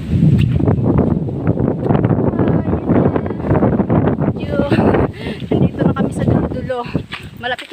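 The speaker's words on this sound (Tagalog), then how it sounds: "Mahangin." Wind gusting across an open mountain trail during a rainy climb in the Philippine countryside, a steady rough rush of mic-buffeting air that runs throughout under close voices talking.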